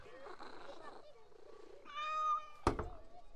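A cat in the video game Assassin's Creed Mirage gives a drawn-out meow and a few softer purring mews, close and clear, ending with a sudden thump; someone speaks briefly.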